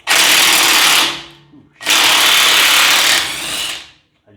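Power tool driving a bolt on a Jeep JK track bar or selector shaft bracket, two loud bursts of about a second each with a short pause between, close by.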